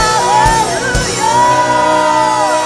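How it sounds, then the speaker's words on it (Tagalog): A church congregation shouts hallelujah together in loud, overlapping cries and whoops, with a few sharp bursts early on and then a long sustained swell of voices. "pwede ka bang sumigaw para sa Panginoon? Ng hallelujah in 1, 2, 3!"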